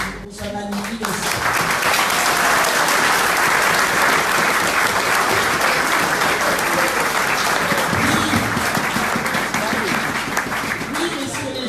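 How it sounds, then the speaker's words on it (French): A crowd honouring a champion football club team breaks into thunderous, sustained applause, loud and dense clapping rolling on without pause throughout. "vous saluer par un tonnerre d'applaudissements pour ce magnifique essai."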